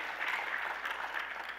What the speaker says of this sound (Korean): 우리 교회학교를 위해서 우리 박수 한번 해주시지 않겠습니까?